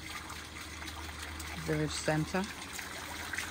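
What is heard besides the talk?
fresh water flowing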